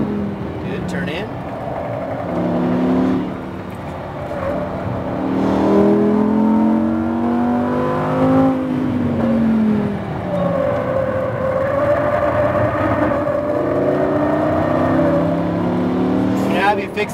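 Lamborghini Huracan LP engine lapping a track at Speed Vegas, revving and dropping through gear shifts and braking, loud and continuous beneath a driving instructor's spoken directions.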